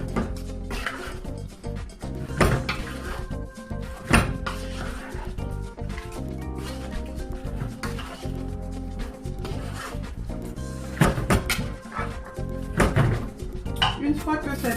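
Pork pieces being stirred into a marinade in a dish with no added oil, giving repeated soft clinks, scrapes and thunks of utensil against the dish, close and steady, under continuous background music.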